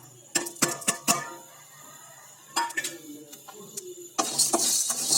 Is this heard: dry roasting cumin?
yes